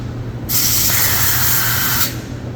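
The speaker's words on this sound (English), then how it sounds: "starts to spray out funky, right?" A spray gun hisses out a steady, loud burst of Teroson sealer for about a second and a half, not fully opened, then cuts off, leaving a low hum.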